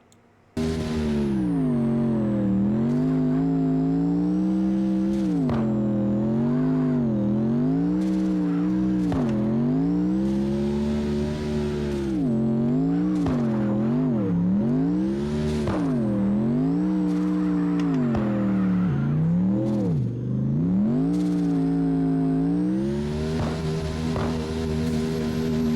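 Toyota Tacoma truck in a low drift build sliding around a track in CarX, the engine note rising and falling continuously with revving and tire squeal, loud and close throughout with no talk.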